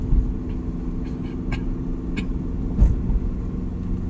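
A car engine rumbles steadily in second gear at about 30 km/h while rounding a roundabout, heard as close continuous low drone with faint road noise and a few light clicks.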